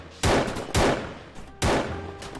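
Three loud, sharp gunshots go off in the heist video game The Perfect Heist. The first two come close together and the third follows after a short pause, each with a brief echoing tail.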